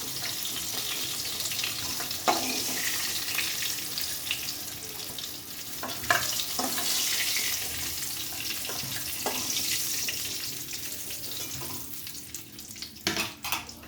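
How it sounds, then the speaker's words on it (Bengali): Eggplant pieces frying in oil in a pan give a continuous, fairly loud sizzle, broken by a few sharp clinks and scrapes of a utensil. "দেখো বেগুনগুলো কিন্তু ভাজা হয়ে গেছে, এবার আমি বেগুনগুলো তুলে নেব"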